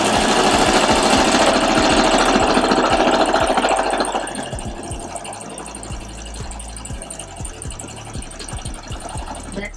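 A sewing machine stitches lining fabric for a cloth face mask, running loud and fast with a rapid mechanical chatter, then slowing and quieting into a softer, steady back stitch for the rest of the run.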